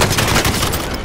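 Gunfire in a Call of Duty match, a rapid dense burst of shots filling a brief loud moment.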